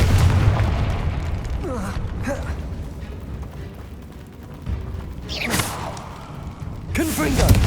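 Confringo blasting spells burst in a Hogwarts Legacy battle: booming, whooshing explosions at the start, near 5.5 seconds and again near 7 seconds, over a continuous low rumble of combat, with a voice calling out between the blasts.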